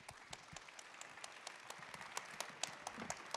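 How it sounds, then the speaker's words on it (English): Audience applause at a consumer protection organization's morning gathering in Lisbon, a steady patter of many hands clapping at moderate level, with no voices over it. "A warm applause, please."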